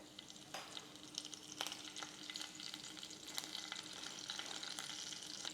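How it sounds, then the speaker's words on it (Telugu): Whole spices like cardamom, cinnamon, shahjeera and cloves with curry leaves frying in hot oil, a faint continuous sizzle with occasional sharp crackles and stirring clicks, quiet and alone. "ఇలాచి, మన దాల్చిన చెక్క, షాజీరా, లవంగాలు వేసి దాని తర్వాత కరివేపాకుతో తాలింపేద్దాం"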